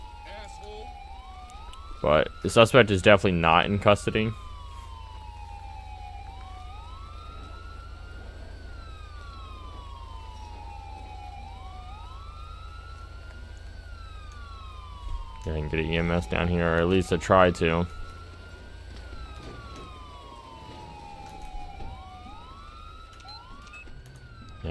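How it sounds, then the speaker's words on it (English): A police car siren in GTA 5 wails in repeated rising sweeps, moderately loud, while someone talks over it in two bursts of radio-style chatter. "And turn our siren off."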